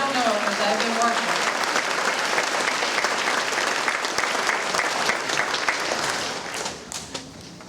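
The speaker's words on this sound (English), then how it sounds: "I want you to give them a round of applause" An audience claps at a nursing pinning ceremony, a full, sustained round of applause that fades over the last seconds into scattered claps, with some voices mixed in.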